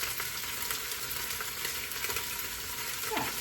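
Short ribs browning in a pan, giving a steady, close sizzle and crackle of frying meat that runs without pause, with no talking.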